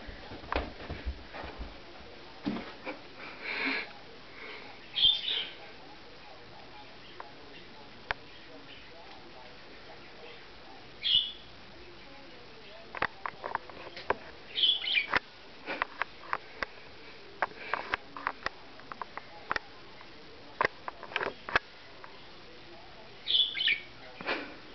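A pet bird indoors gives scattered short chirps and tweets in a quiet room, separated by long gaps, with a few brief rustles and sniff-like noises between the calls.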